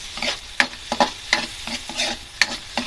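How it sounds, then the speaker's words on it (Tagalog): Onion stirs and fries in a pan, with a spatula scraping in a quick, irregular rhythm over a bright, close sizzle. "Lagay na rin ang sibuyas."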